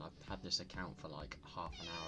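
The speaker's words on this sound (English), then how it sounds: "Sorry if you can hear my cat in the background" A pet cat meows in the background while someone talks, the cries rising over his voice once or twice.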